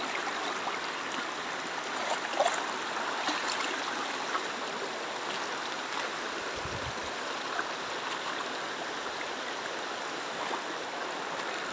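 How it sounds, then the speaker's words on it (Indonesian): Fast-flowing river on a mountain slope, a steady broad rushing roar of water that holds constant and moderately faint throughout, with no talking. "Airnya deras,"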